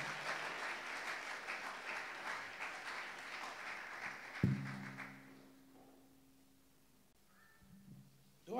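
Applause from a church congregation at a supernatural-covering summit fills the first four seconds, a dense steady clapping that fades out around the five-second mark, leaving a quieter room with brief faint sounds after.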